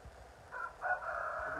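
A rooster crows faintly in the distance, a short drawn-out call rising and holding for about a second over quiet outdoor background noise, with no voices.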